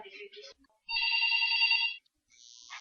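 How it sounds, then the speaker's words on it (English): A telephone at home rings in one long electronic burst, close and clear, with brief speech before and after it. "And now the phone is ringing"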